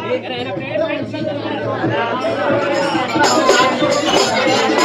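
Dense crowd chatter from many people seated together at a village Ganpati aarti gathering in Konkan, with overlapping voices forming a steady, fairly loud babble throughout.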